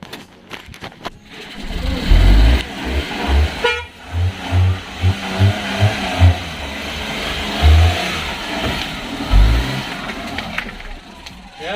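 A car is driven out along a rough rural road, its engine revving and straining up close while the horn gives repeated short toots; voices talk faintly in the background.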